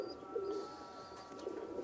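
Pigeons coo softly nearby in a pigeon loft, with two low throaty calls under faint background noise.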